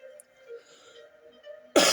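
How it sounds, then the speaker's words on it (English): A single harsh cough bursts out near the end, loud and close, after a couple of seconds of quiet background hum. "Sorry guys, got this cough."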